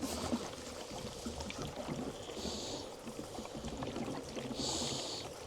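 Petrol pouring into a motorbike fuel tank, a steady liquid gurgle and splash with a faint trickle and a couple of brighter hissing moments, close and continuous, with no talking.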